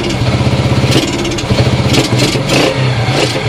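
A Yamaha Champ scooter engine nearly out of gas runs close by, its uneven putter sputtering and surging in short bursts as the motor chugs and stumbles.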